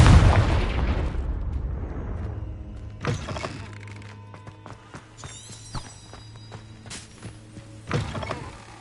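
A Confringo fire spell blast in a Hogwarts video game: a loud, booming burst opens, then rumbles away, followed by a few sharper impacts and faint mechanical clatter.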